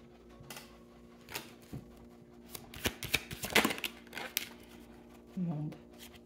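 Tarot-style cards are shuffled and drawn by hand for a reading: a run of crisp, close riffles and flicks, busiest in the middle, with a brief murmur of voice near the end.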